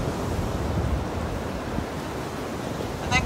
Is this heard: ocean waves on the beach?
yes